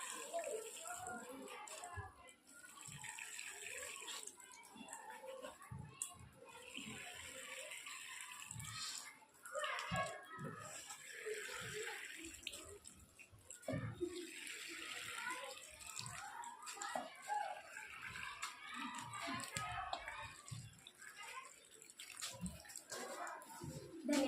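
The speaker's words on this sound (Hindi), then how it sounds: "अब हम इन गमलों में पानी डाल देंगे" Water pours into plant pots in an outdoor experiment, splashing and gurgling continuously with faint trickles, while voices, including a child's, talk quietly in the background.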